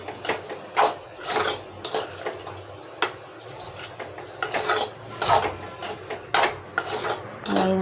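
Egg rice is stirred in a pan, with repeated scraping and rasping strokes of a spoon against the metal, an irregular rhythm of loud bursts and softer rubs close up, no talking.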